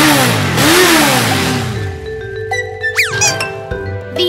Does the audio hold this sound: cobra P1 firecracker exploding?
no